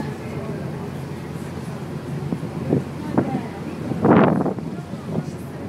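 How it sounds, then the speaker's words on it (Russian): A ferry crossing the Mediterranean Sea to Gozo, with steady wind rushing and rumbling over the deck throughout and a louder gust near the end, muffled voices faintly beneath. "Так мы плывем по Средиземному морю"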